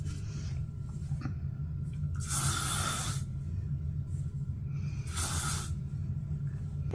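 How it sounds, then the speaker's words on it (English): Two short bursts of aerosol hairspray hiss from close range during a makeup routine, each lasting about a second, with a steady low background hum between them. "Last step, a little bit of hairspray."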